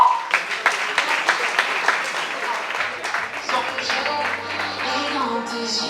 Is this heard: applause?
yes